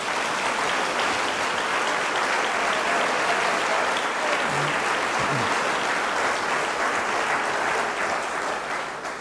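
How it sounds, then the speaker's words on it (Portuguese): An audience at a Portuguese-language gospel program gives strong applause to Jesus, a loud continuous roar of many hands clapping that holds steady for the full length, with a faint voice briefly heard in the middle. "Você pode dar um forte aplauso a Jesus?"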